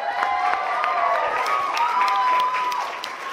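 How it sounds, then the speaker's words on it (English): Wedding guests applauding and cheering for the couple during the toasts, a crowd of clapping hands under whoops and raised voices that keeps a full, lively level before easing slightly at the end. "So round of applause for Julie and Kirk."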